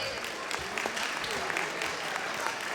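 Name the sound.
audience applause at Diwali event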